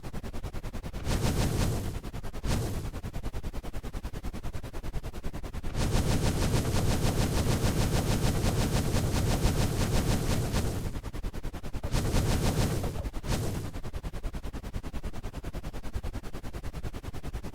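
Rapid-fire gunfire from a helicopter in a Minecraft mod video game plays as loud, continuous automatic bursts of varying length, broken by brief pauses.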